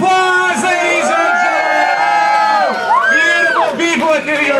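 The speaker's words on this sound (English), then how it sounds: "I think it deserves another round of applause" Audience at Ripley's Believe It or Not in New York City cheering and whooping loudly, with excited shouts rising and falling over a steady crowd roar for the whole stretch.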